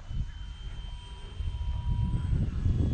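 A Red Bull Stearman PT-17 RC model biplane flies over a park, its engine a steady, fairly loud drone that swells slightly toward the end, with no talking.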